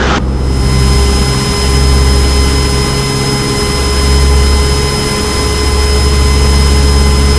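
A Cessna 150's single piston engine drones loud and steady from inside the cockpit during a touch-and-go, with a constant low hum and slight swells in power throughout.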